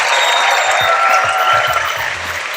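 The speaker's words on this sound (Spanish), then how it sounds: "un fuerte aplauso para que les escuchen desde casa" A theatre audience in Madrid applauds loudly and steadily, a dense wash of clapping that slowly eases toward the end.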